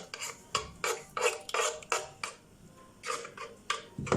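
Yogurt stirred in a pot with a spoon, a steady rhythm of soft scraping strokes against the pot, close and fairly quiet, each stroke a short swish repeating about twice a second.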